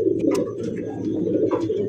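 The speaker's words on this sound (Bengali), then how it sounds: "Original Indian lotion." An Indian Lotan pigeon coos close by in low, throaty, rolling notes that run continuously, with faint chirps from other birds in a loft.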